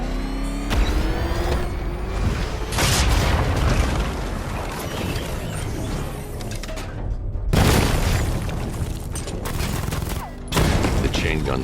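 A chain gun in the Batman Arkham Knight video game fires in long, loud rattling bursts broken by heavy booms and explosions, the barrage surging and pausing several times over about twelve seconds.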